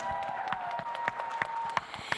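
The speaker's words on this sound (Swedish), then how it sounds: "Massor av applåder nu." Scattered applause from an audience at the Young Designer Competition 2015 in Sweden. The claps are sparse and distinct, with a faint steady tone running underneath.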